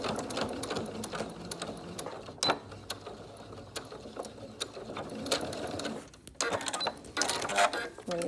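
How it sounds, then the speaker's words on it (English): A domestic sewing machine stitches fabric for a 3-D singer's mask, running in bursts of close, rapid mechanical rattling with brief pauses and clicks between runs. "I'll put this under our sewing machine"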